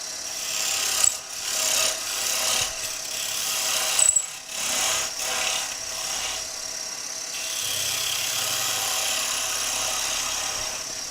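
A wood lathe turns the sleeve of a German smoker project while a tool cuts away waste. Short rough scraping bursts come and go over a steady motor hum, and the sound settles into a smoother, even whir.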